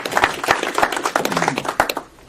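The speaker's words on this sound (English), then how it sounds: "Let's give him an applause." Clapping from a small group of people, a loose and uneven patter of hands with distinct individual claps, fairly close and tapering off near the end.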